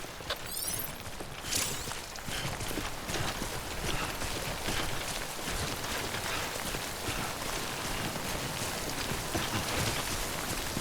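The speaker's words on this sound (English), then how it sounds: "Don't stay out in the rain any longer than you have to." Steady rainfall from the video game Death Stranding, a dense continuous hiss of drops pattering on surfaces that stays even and fairly loud throughout, with no talking.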